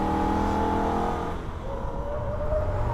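A Holden VF Ute racing at the Nürburgring, its engine roaring loudly at high revs, then easing slightly and building again as it moves through a corner.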